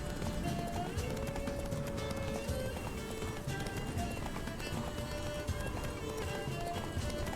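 Roach, Geralt's horse in The Witcher 3, gallops with steady, rapid hoofbeats that run continuously beneath game music and a voice.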